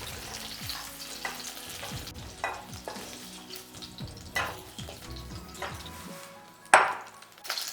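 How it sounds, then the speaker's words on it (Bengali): Cauliflower florets lightly frying in ghee in a pan for a cauliflower korma, a soft steady sizzle broken by repeated utensil scrapes and stirs, with a sharp clink near the end. "এরপরে দেখুন একদম হালকা করে ভেজেছি, সাদা রঙটা বজায় থাকবে"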